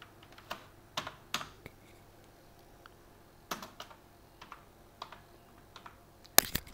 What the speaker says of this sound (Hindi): ब्राउज़र पर जाने के बाद सिंपली हम लिख देंगे